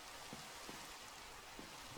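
Steady rain falls in the video game Minecraft, a continuous broadband hiss with faint drip-like patter, heard alone at moderate level.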